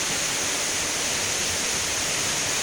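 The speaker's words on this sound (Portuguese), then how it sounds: "Cachoeira da Caixa d'Água." Cachoeira da Caixa d'Água, a waterfall near Guarapuava, roars as a loud, unbroken wall of rushing white noise, close by and with no other sounds.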